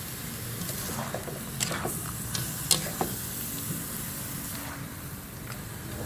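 Frog meat stirred with plenty of ginger in a hot pan, a low sizzle under scraping strokes with a few sharper clinks of utensil against metal, close and moderately quiet.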